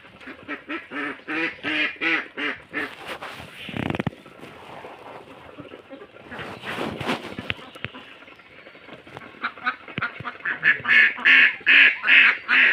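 Ducks, about twenty of them, quack at a village duck house, bursts of rapid, fairly close calls repeating in clusters with quieter stretches of mixed rustling and chatter between.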